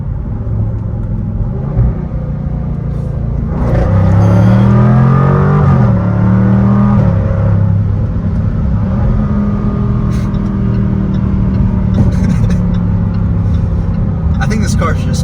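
A Jaguar F-Type R pulls hard under acceleration with a deep, rising engine roar and climbing gear tones, close and loud from the cabin, with someone talking over it.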